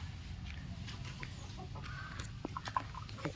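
Chickens cluck quietly around a coop in short scattered bursts against a low outdoor hum, with a few sharper clucks toward the end.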